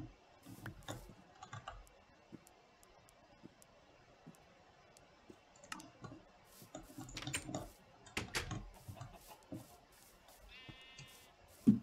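Sheep bleat now and then in a Minecraft game, short faint calls scattered among clicky keyboard typing and small game noises, with a voice talking briefly at times.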